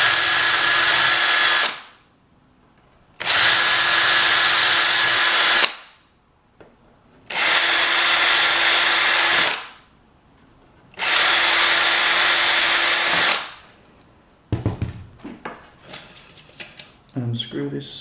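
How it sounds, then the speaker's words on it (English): An electric drill whines loudly in four sustained bursts boring through wood on a cigar box guitar, separated by short pauses, then gives way to handling clatter and knocks. "So I'll just run this drill through the existing"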